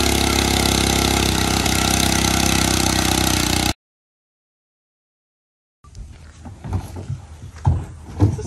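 A petrol auger machine engine drones loudly and steadily while digging post holes for platform footings, then cuts off abruptly into silence, followed by quieter outdoor knocks and movement.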